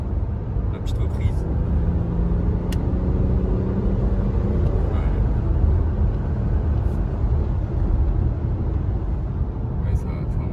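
A BMW X6 40d F16 with M package and xDrive accelerates. A steady low engine rumble builds from inside the cabin, with faint voices over it.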